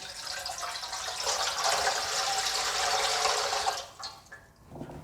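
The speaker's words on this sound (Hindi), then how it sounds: "स्टीम के लिए हमें चाहिए एक देचका, उसके अंदर अब पानी डालेंगे।" Water pours from a tap into a large cooking pot set up for steaming a Lahori chicken roast, a continuous splashing fill that stops after about four seconds, followed by a few faint clinks.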